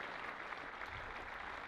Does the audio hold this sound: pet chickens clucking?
no